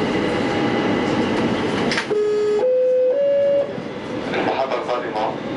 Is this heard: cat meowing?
no